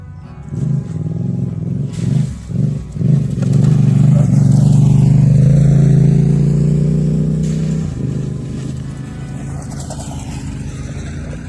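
Yamaha Tenere 700 adventure motorcycles ride past off road: a few short revs, then a loud engine roar that builds close by, passes and fades into the distance.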